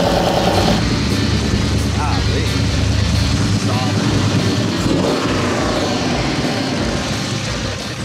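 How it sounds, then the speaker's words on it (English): The 600-horsepower engine of a restored 1992 Chevy truck fires up and runs, a loud, rough exhaust rumble that holds steady for several seconds while people talk over it. "That exhaust sounds pretty good."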